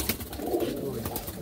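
In a pigeon loft, male pigeons give low, rumbling coos that swell and fade, close by, alongside faint sounds of the room.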